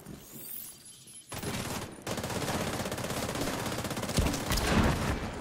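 Video game gunfire from grenadiers firing on decoys bursts in sustained, dense automatic volleys at close range, continuing for several seconds after a brief lull.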